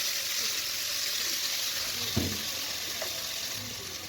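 Blended vegetables and oil sizzle in a cooking pot, a steady hiss of frying with a brief clatter of a utensil partway through.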